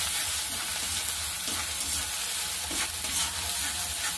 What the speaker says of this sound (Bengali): চলুন, এটাও দিয়ে আমি একটুখানি ভেজে নেব।